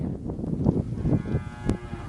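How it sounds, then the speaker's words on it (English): Cattle low in a few deep, drawn-out moos close by, one after another, with a brief higher call near the end. "Cows are mooing."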